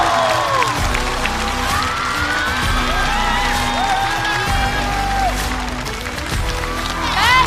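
Studio audience applauding and cheering to welcome a team of stand-up comedians onto a comedy stage, steady loud clapping and whoops throughout, with a host's voice and music carrying over the top.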